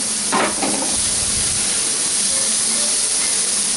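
Onions fry on high heat in a cast iron pan with a steady, close, loud sizzling hiss. A brief stirring scrape comes near the start, and the sizzle stays constant throughout.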